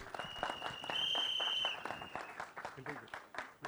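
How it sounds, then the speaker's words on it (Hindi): Audience applause breaks out at a film trailer launch event, a brief burst of clapping from the crowd mixed with a host speaking over it. "मुकेश भट्ट साहब के लिए जोरदार तालियां हो जाए"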